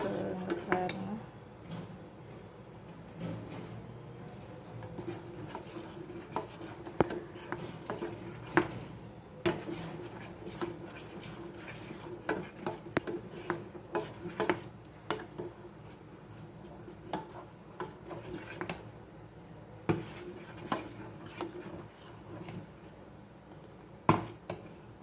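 Milk for vanilla ice cream is stirred in a pot on the stove, a close metallic scraping and clinking of a spoon against the pot with irregular taps, fairly quiet throughout.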